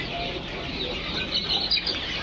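A flock of brown layer hens on a poultry farm of about a thousand birds fills the air with steady, dense clucking and squawking. Brief sharper calls rise above the continuous clamor.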